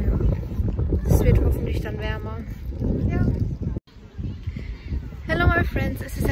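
Cool beach wind in Italy buffets the microphone in low rumbling gusts while a person talks throughout, with a brief dropout midway.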